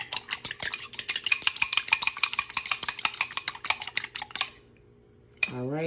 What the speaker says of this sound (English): Then I got my 2 eggs. I'm going to go ahead and beat those up real quick.